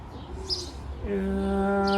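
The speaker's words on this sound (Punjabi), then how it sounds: "ਇਹ ਪਿਓਰ ਕਬੂਤਰ ਨੇ" Tippler pigeons coo nearby, a soft burbling call that swells into a sustained, steady tone in the second half, with faint bird chirps behind; in Canada.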